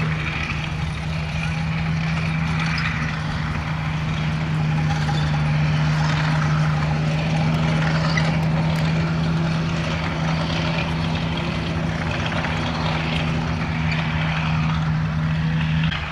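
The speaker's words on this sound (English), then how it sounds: "we're just getting our money's worth out the M4 Sherman there with the multi-bank background still" A Sherman V tank's multi-bank engine runs steadily at the Bovington Tank Museum, a loud continuous droning hum with a strong low tone, unbroken throughout.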